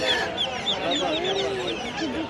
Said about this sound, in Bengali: এখানে সব দেশি মুরগি